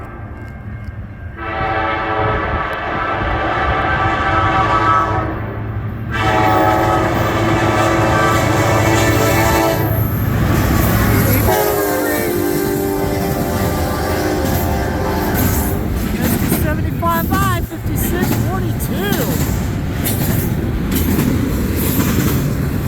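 A CN freight train led by an EMD locomotive passes close and loud at Ladysmith, with long sustained horn blasts early on, then steady rumble, rail clatter and wheel squeal as the cars roll by.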